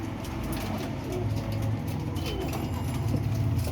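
Pet pigeons in their loft cooing in low, repeated murmurs, close and steady, with faint rustling around them.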